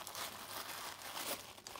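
A mailed parcel is opened by hand, its paper crinkling, crumpling and tearing in a steady, close, continuous rustle for under two seconds.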